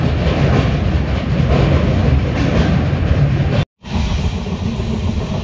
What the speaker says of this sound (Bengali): ট্রেন দ্রুত গতিতে ছুটছে দক্ষিণেশ্বরের দিকে